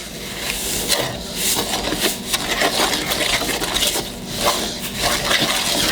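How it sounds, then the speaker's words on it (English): A spoon or whisk stirs white-cornmeal hush puppy batter in a bowl, producing close, continuous scraping and sloshing strokes in an irregular rhythm for several seconds. "Incorporate this all together to make a batter."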